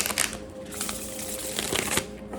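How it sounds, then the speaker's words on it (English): A deck of tarot cards shuffled by hand up close, a dense, continuous riffling flutter with sharper slaps of cards throughout and no voices. "Okay, I think I'm gonna shuffle one more time after this."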